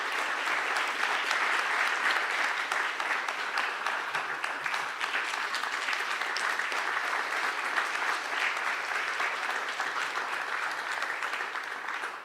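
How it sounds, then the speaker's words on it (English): A conference audience at an agricultural finance learning event gives a steady, sustained round of dense applause, continuous and fairly even in loudness for the whole stretch with no voices over it. "Let's give them a big round of applause."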